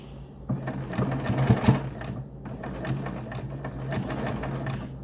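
A sewing machine stitching a locking stitch through a down throw quilt, with a few quick stitch bursts and then a steady, even run of stitches close to the listener, no voices.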